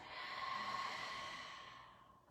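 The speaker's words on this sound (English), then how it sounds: "and breathing out" A slow, soft exhale during yoga breathing, a faint breathy sigh that swells then tapers away, heard alone.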